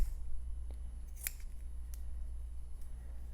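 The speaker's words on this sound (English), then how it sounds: "I'm going to take a little piece of batting. Just cut a little piece for the center of it." Scissors snip through a small piece of quilt batting in a few soft, crisp cuts over a low steady room hum, with no voices.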